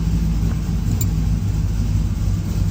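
A turbocharged 6.0 all-wheel-drive Chevrolet Silverado engine runs at a steady idle, a loud, close, low rumble that holds even throughout with no talking.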